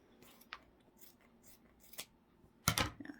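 Small scissors snip through leprechaun gnome craft material in a few sharp, close cuts, spaced apart at first and ending in a louder cluster of crunchy snips, with quiet rustling between and no talk.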